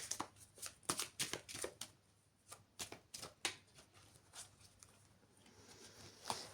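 Tarot cards are shuffled and drawn by hand, giving quiet rapid riffling and flicking bursts in an uneven rhythm, close and soft, with brief pauses between the snaps.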